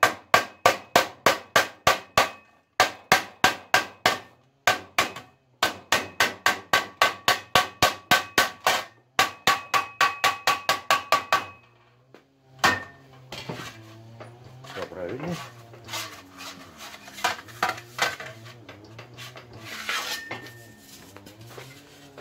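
Rapid bursts of close, bright metallic hammer taps ring out as a tin Pittsburgh seam is knocked together on a sheet-metal duct elbow, in several fast runs, followed by scraping and handling of the thin metal.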